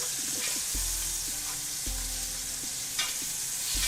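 Short ribs searing in a hot pan, a constant loud sizzle with occasional sharp clanks and knocks of a utensil against the pan, heard up close.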